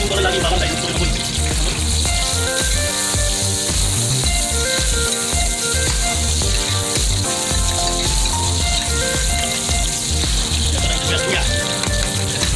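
Onion and garlic sizzling in a pan while cooking chicken tinola, a steady crackling fry heard close and continuous, with a voice talking and music playing over it.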